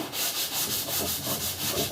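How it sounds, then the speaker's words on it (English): Rhythmic scraping of sandpaper on a flat block sanding a teardrop camper body, steady back-and-forth strokes, close and clear with no voices. "And I sand it with a flat block."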